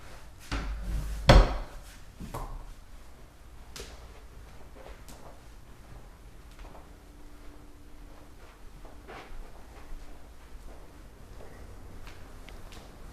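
A closet door in a brand new home by NV Homes in Fairfax, Virginia, swung open with one sharp wooden knock near the start, followed by faint handling clicks and quiet room tone.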